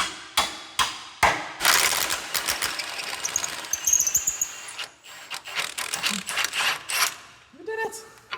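A hand ratchet clicks rapidly in short bursts while sway bar link bolts come off a 20-year-old SVT Lightning during a frame restoration, with nearby metallic knocks and clatter.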